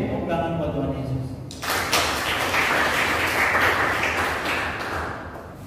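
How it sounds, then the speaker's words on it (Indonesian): Congregation at a Sunday church service at GBI Kampung Sawah breaks into clapping in praise of Jesus, the applause swelling partway through and continuing as a dense, sustained wash under a lingering voice. "Tepuk tangan buat Tuhan Yesus"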